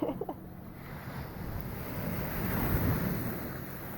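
Wind buffeting and surf washing at Arrábida beach in hot weather, a steady broadband roar with rising swells of wave noise and microphone wind rumble, no talking.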